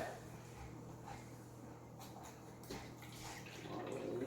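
Vinegar poured slowly into a volcano science kit, a steady liquid trickle and splash running the whole time against a constant low hum.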